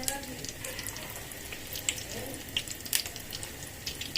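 Sausage chutney cheese rolls frying gently in a pan over low heat, a steady soft sizzle with scattered small crackles and pops close by.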